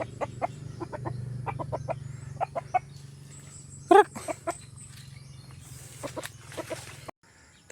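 Backyard chickens cluck in short, scattered calls just after feeding, alternating with a few sharper squawks over a low steady hum outdoors.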